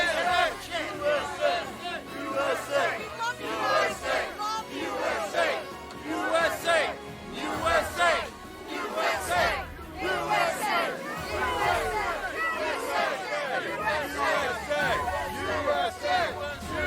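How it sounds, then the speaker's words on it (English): A large, excited crowd gathered outside a Donald Trump rally in Wildwood, New Jersey, cheering, shouting and chattering continuously in a dense, loud roar with repeated surges of yelling. "this crowd is absolutely riled up and excited to be here"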